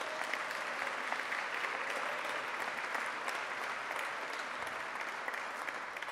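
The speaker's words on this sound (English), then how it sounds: "Let's have a round of applause for our inductees." A hall of fame induction ceremony audience applauding for the inductees, a dense, steady wash of many hands clapping in a hall, sustained for several seconds and fading slightly at the end.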